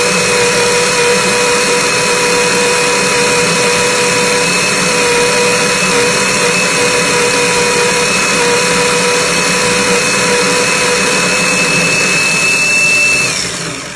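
A coffee grinder whirs loudly and steadily, grinding beans coarse for a Chemex brew, a sustained motorized hum with a high whine that holds for about thirteen seconds before winding down.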